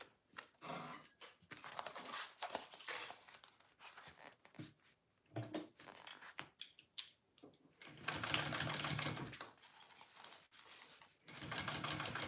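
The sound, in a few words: sewing machine top stitching a bag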